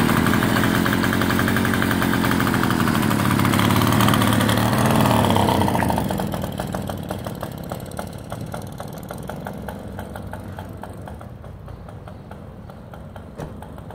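A 1949 Excelsior Autobyk Deluxe 98cc motorcycle engine running, a loud, buzzy two-stroke drone that holds steady, then fades and thins as the bike pulls away, continuing as a more distant putter.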